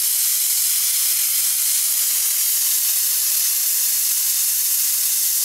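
A pressure cooker on a gas stove, holding baby back ribs and their juices, releases a loud, steady hiss of steam that continues unbroken and close.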